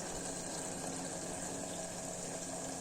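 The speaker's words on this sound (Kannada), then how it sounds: "ಅಕ್ಕಿ ಎಷ್ಟು ತೊಗೊಂಡಿರ್ತೀವೋ ಅದ್ರ ಎರಡರಷ್ಟು ನೀರು ಹಾಕಬೇಕು" Water is poured into fried masala for vegetable pulao, making a steady, continuous gushing flow close by, with no talking.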